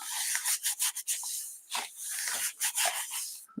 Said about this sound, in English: rub it down.